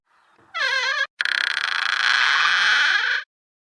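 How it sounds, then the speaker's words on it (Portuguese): A door creaks open as a theatre sound effect, with a wavering, warbling squeal, a brief break, then a long, loud, rasping creak that stops suddenly. "o ranger de uma porta abrindo"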